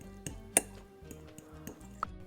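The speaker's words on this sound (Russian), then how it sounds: "И с помощью вилки нам нужно это все вот так превратить в пасту." A fork mashes garlic cloves into a paste against a bowl, giving a few sharp metallic clinks and soft scrapes, close and alone with no talk.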